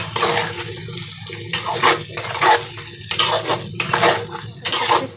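Spice paste with fried potatoes being stirred in a pan for a vegetarian potol dorma, a spoon scraping and clinking against the metal in several loud, close bursts separated by brief pauses.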